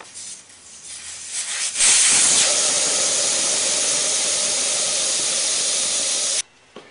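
A loud, steady hiss of air rushing out of a BMW F650GS motorcycle tire as the valve core is pulled starts abruptly, continues for several seconds, then cuts off sharply.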